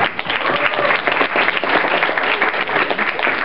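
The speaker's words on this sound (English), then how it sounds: "Big round of applause, guys." An audience at a furry convention game show gives a big round of applause, dense and loud, many hands clapping continuously and evenly for the whole stretch.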